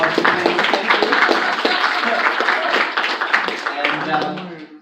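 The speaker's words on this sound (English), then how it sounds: "Big round of applause for Sam." Audience applause and scattered clapping for a panelist at an anime convention career panel, steady dense clapping throughout with some voices mixed in.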